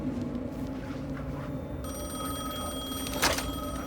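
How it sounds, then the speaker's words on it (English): Telephone ringing in the video game Alan Wake 2, a single bright electronic ring rising over a low hum of background ambience, fairly faint, with no talking. "The phone again."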